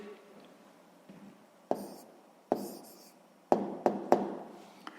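Pen writing an answer to a sixth-grade maths exercise, short scratchy strokes on paper with a few sharper taps, close and quiet, in brief spaced bursts.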